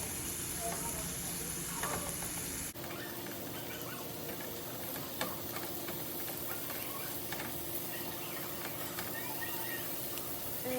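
Shrimp sizzle steadily in a hot pan, a continuous crackling fry with small pops and ticks; a louder burst of sizzling opens as the pieces are flipped, then settles into an even hiss.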